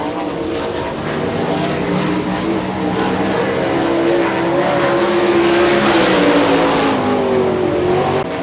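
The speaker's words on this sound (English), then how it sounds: "Working the track right now out of Butler, PA, the 20 of Brian Ellenberger." Sprint cars race on a dirt oval at a Hartford, Ohio speedweek event, a loud sustained engine roar with rising and falling pitch as the cars pass nearby.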